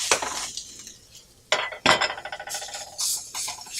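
Garlic, dry red chili and shredded coconut are stirred together in a pan for a South Indian thuvaiyal, with close, irregular scraping and clinking of a utensil against the metal pan and a faint sizzle in between.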